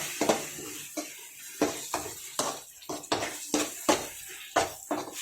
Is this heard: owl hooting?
no